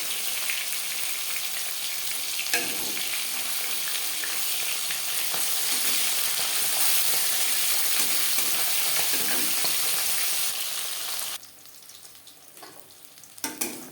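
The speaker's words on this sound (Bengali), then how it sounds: "মাছ ভাজা হয়ে গেছে" Bata fish fries in a pan with a steady, close, crackling sizzle that cuts off sharply near the end, followed by a couple of brief utensil knocks.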